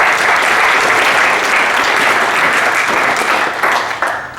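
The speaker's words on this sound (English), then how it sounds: "So give a round of applause for Mike Brody." An audience at a college class event gives a round of applause for Mike Brody, a loud sustained wash of many clapping hands that thins out toward the end.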